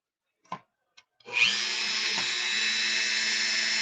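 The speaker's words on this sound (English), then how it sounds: "We'll drill the other side too." A couple of soft clicks, then a power drill spins up and runs steadily at a high, even whine, close by.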